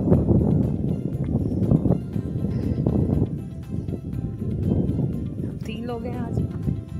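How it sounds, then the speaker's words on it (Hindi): Strong wind rushes across the Peer Chanasi mountain meadows near Muzaffarabad as steady low buffeting on the microphone, with someone talking over it the whole time. "हवा की आवाज़ सुने, ख़ास हवा की आवाज़ आती है।"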